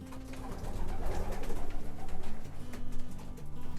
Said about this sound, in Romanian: Am în mână porumbelul 222-17 din anul 2020, un porumbel de excepție